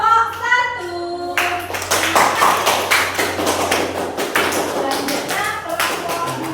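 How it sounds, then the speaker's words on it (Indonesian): Classroom applause for a student group bursts out after a short stretch of talk, a dense, loud patter of many hands clapping that carries on steadily before thinning toward the end. "Beri tepuk tangan untuk kelompok 1."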